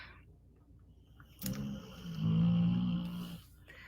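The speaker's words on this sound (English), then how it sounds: "Sarah, is that your dog snoring in the background?" A dog snores softly in the background, a single low drawn-out rasping breath rising and fading over a few seconds, faint and unaccompanied by speech.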